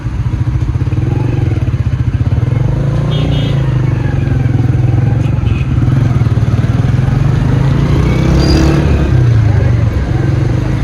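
Motorcycle ridden through the busy Saddar bazaar streets of Rawalpindi, Pakistan, in cold weather, its engine droning steadily and close throughout with low rumble, passing traffic and street clatter around it.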